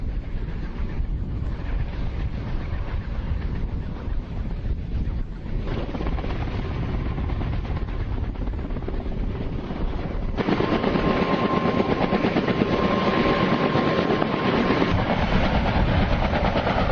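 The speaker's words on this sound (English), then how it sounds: "the Karman K-MAX helicopter" Kaman K-MAX unmanned helicopter flying, a continuous loud rotor and turbine roar that holds steady and grows heavier partway through, no voices.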